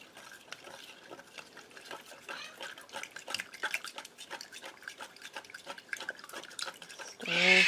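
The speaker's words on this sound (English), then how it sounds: "I'm going to go ahead and add my olive oil, stirring." A spoon stirs olive oil into a warm homemade honeybee swarm lure mixture in a pot, with soft repeated scraping and liquid clicks, quiet and close, ending in a louder burst of noise.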